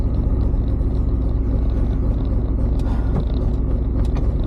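A tuned Corvette V8 idles steadily up close, a loud continuous low rumble with a slightly lumpy pulse and faint mechanical ticking, no voices.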